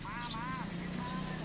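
A horse is heard close by, with soft clip-clop hoof sounds under steady background noise and a person talking over it.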